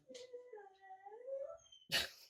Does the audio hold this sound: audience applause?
no